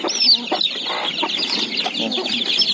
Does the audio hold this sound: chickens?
yes